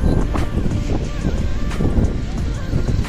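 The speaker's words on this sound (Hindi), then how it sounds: "यहाँ बहुत ही हवा चल रहा है यहाँ पे।" Strong wind on a mountain road near Rohtang, buffeting the microphone as a loud, continuous rumbling roar with gusty surges, under a voice speaking.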